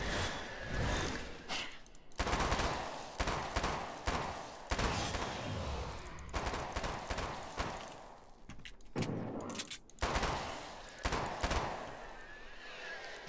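Gunfire in Alan Wake's American Nightmare, sharp loud shots repeated in clusters across the stretch with short pauses between bursts, mixed with game effects and someone talking at times.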